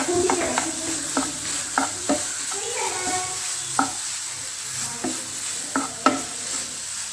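Spoon scraping and stirring a coconut, sugar and banana mixture in a pan over a steady sizzle, with irregular sharp knocks against the pan, close and moderately loud, no talking.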